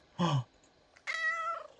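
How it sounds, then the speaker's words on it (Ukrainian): A cat meows in the supermarket game Supermarket Together, two distinct calls in a row: a short low mew, then a brief pause and a longer, higher, clearer meow, close and alone. "О, нявкає."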